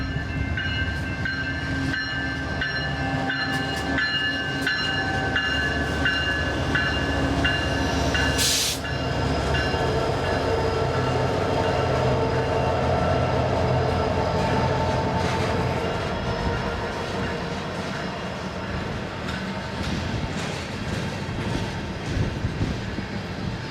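A BNSF coal train rolls slowly past, loud and close, with a steady rumble of wagons and wheel squeal throughout and a brief sharp horn blast partway through.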